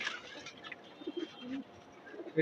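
Pigeons in a collection coo softly in short, throaty phrases, a few overlapping calls close by against a quiet background.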